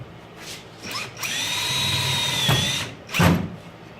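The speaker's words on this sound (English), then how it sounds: "let's just shoot a screw in and see what happens" A power drill drives a screw into loose plastic, giving a couple of brief whirs and then one sustained, close, high-pitched whine lasting over a second, followed by a short final burst.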